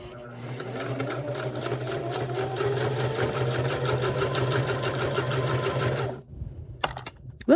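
A sewing machine runs a steady, continuous stitch along a seam of a cork-and-fabric clutch, close and even for about six seconds before stopping, followed by a few small handling clicks.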